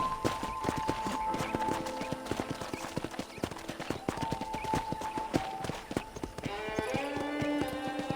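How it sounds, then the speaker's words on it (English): Steady clip-clop of horse hooves trotting in Red Dead Redemption, a quick rhythmic beat of hard knocks over a background of ambient music tones. "let's see if you can still ride a horse"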